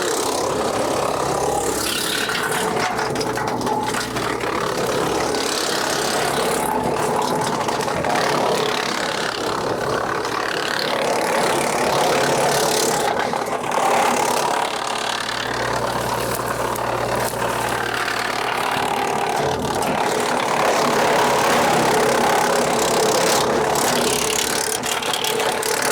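A wood chipper with an auto infeed runs on a trailer and chews through small material, a steady engine drone with irregular crackling and rattling bursts as branches feed through, continuous and close with no talking.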